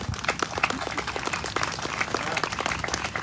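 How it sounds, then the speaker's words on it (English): Applause from an audience at a Grandfather's Day community event, many hands clapping in a dense, steady patter with no talk over it. "give yourself a round of applause"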